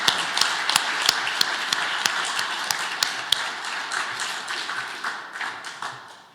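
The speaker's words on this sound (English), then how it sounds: "Can we give another round of applause for the people who helped put this together?" An awards ceremony audience claps in a light round of applause, with a few distinct sharp claps over a softer crowd wash that gradually fades out.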